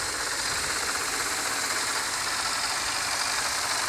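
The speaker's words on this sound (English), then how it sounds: "It's pretty much a General Motors engine, a four-cylinder, 150 brake horsepower motor." A General Motors four-cylinder engine of 150 brake horsepower with a timing chain idles steadily, a constant even hum and faint rattle heard close and alone without any voices.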